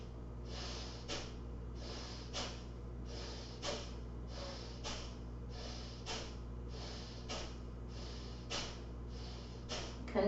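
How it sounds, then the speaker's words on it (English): Slow, deep yoga breathing, a steady cycle of audible inhales and exhales repeating roughly every second or so, close and soft against a low background hum, with no speech. "Please continue inhaling and exhaling."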